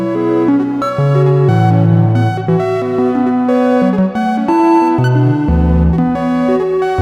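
A modular synthesizer sequencer steps through shifting pitched notes built around fifth intervals in a steady rhythm, bright and electronic, playing alone without voices.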